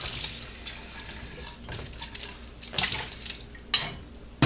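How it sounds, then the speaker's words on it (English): A Stanley thermos coffee pot is rinsed under a running kitchen tap, with splashing water and a few light metallic knocks against the sink, close by and uneven. "Rinse it off."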